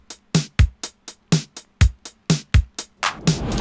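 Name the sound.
retro LinnDrum-style kick, snare and hi-hat drum beat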